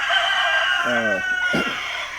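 A rooster crows close by, followed by a short burst of hen clucking, over steady background noise.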